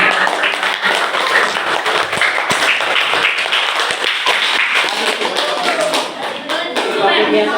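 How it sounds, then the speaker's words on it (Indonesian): A classroom of students claps their hands together in a steady, dense patter of applause that carries on for several seconds, with voices mixed underneath. "kita kasih tepuk tangan dulu semuanya."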